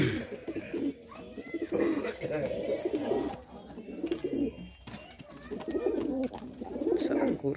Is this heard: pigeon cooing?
yes